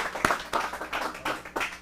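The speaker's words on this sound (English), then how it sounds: "Clap it up, please." Audience at a live music night at a lounge clapping in scattered, uneven bursts, moderately near, a small crowd applauding with no talk over it.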